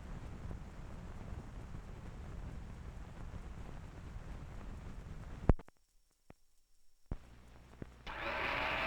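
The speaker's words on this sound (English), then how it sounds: "It's a General Electric blender that's going around." A General Electric blender runs with a continuous whirring drone, then cuts out abruptly into near silence with a couple of faint clicks before a new hum starts.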